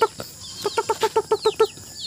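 Young Rhode Island Red chicks give a quick run of about ten bright, high peeps in an even rhythm, close and clear, with nobody talking.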